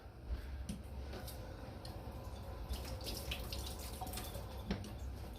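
Water runs faintly from a tap while a milk frother is rinsed, a quiet steady trickle with small ticks and clinks of the frother and sink scattered through it, no one talking.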